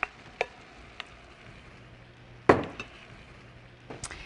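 Pork and vegetables tipped back into a pan of wilted cabbage for a stir-fry, giving a sharp clatter and scrape at the midpoint amid scattered clinks of utensil on pan, with faint sizzle underneath.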